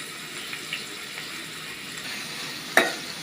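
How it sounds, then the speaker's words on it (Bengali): Chopped onion fries in oil with a faint, steady sizzle close by, broken once near the end by a sharp clink. "তেল দিয়ে নিলাম পেঁয়াজ কুচি দিয়ে দিলাম"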